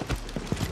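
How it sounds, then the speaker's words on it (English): Horse hooves clip-clopping in the video game Minecraft, a few quick close hoof clops over less than a second. "Oh, there's a horse outside."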